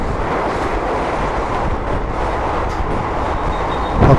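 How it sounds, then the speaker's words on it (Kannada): A Mangalore to Mumbai superfast express races at high speed through a tunnel, its deep continuous roar and rushing rumble filling the space steadily, with a brief louder surge near the end. "ಹೈ ಸ್ಪೀಡಾಗಿ ನಮ್ಮ ಟ್ರೈನು ಓಡ್ತಾ ಇದೆ ಸುರಂಗ ಮಾರ್ಗದ ಮಧ್ಯದಲ್ಲಿನೇ ಅನ್ಬೋದು"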